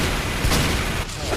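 Team Fortress 2 gunfire in a rapid, dense burst of overlapping shots and booms, loud and continuous for over a second with no voices.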